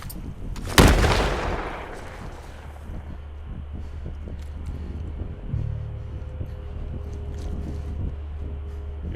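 In The Last of Us, a single loud gunshot cracks close by and echoes away over a steady low ambient rumble, with faint scattered noises afterward.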